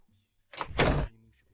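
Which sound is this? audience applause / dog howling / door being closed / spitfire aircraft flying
door being closed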